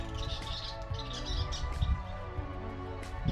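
A flock of about 10 to 15 western kingbirds chirps and twitters continuously at a lake state park, with overlapping calls at moderate distance and no talking.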